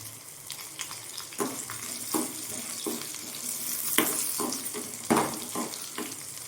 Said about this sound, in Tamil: இப்போ இதில் வரமிளகாய் சேர்த்து இது ஒரு 2 நிமிஷம் வதங்கட்டும்